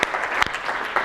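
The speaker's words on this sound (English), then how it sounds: "let's give them a round of applause." Brief, light applause from a nonprofit event audience, a few scattered claps with sharper hits near the start and middle, no talking.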